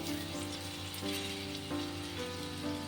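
Gram flour, besan, frying gently in a pan, a steady soft sizzle and crackle running evenly throughout without any voice.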